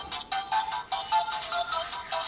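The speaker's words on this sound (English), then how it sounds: "the ringtone if someone's calling you" Electronic ringtone from a Kamen Rider Zi-O DX Faiz Phone X toy, a rapid repeating chirpy beep pattern pulsing several times a second, close and clear with no talk over it.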